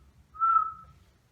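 A person whistles a single clear, steady note lasting just over half a second, alone against a quiet background.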